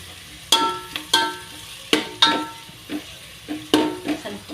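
Fenugreek leaf chakli frying in hot oil, a low steady sizzle broken by sharp metallic clinks and taps from a utensil at irregular intervals, close by, with no voices.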